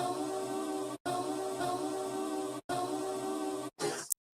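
A looped music sample for a beat remake in Logic, played without delay, so it sounds choppy. Sustained tonal chunks cut off abruptly with short silent gaps between them, close and steady, with no voices.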